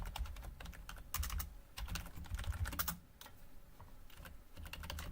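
Rapid computer keyboard typing, close and fairly loud, with bursts of clattering keystrokes that pause briefly and resume, no voices.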